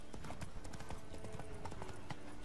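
Horse hooves clip-clopping in The Witcher 3, a steady rapid gallop of hoofbeats close up over game ambience, with a faint voice in the background.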